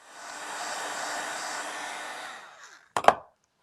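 A heat tool blows hot air to dry embossing powder on a handmade card: a steady, close whooshing whir for about two and a half seconds that winds down, followed by a couple of sharp clicks as it is switched off.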